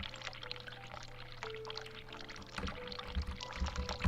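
Water running into a sink in the video game The Cat Lady, a steady pouring wash under a low drone and faint tones, growing a little louder and more splashy toward the end, with no speech.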